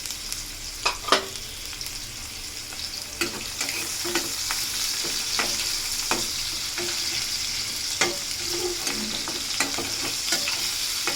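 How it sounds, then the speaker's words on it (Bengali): Onions sizzle and fry in oil for a Bangladeshi home-cooked tilapia with bean seeds, with a steady crackling hiss broken by repeated spatula stirs and scrapes close by. "পেঁয়াজগুলো একটু ভাজা হোক"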